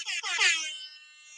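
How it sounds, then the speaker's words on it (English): A single blaring DJ air horn sound effect, harsh and buzzy, ringing out loud for about a second before trailing off. "DJ air horn."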